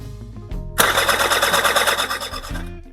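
A Honda Pop scooter engine turns over and catches, then runs with a loud, steady buzzing idle for about two seconds before dropping back down.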